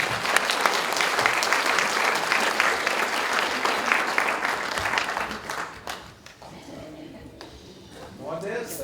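An audience applauds children performers at an Aromanian stage show honoring mothers, a dense, loud burst of clapping that tapers off and gives way to a voice speaking.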